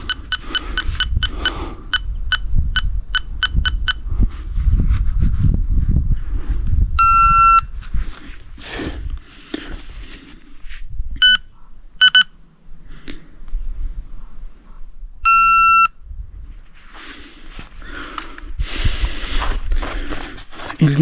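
An electronic detector device sounds off on its own with rapid runs of high beeps, then separate sustained tonal alarm bursts, interrupted by handling noise and low rumble.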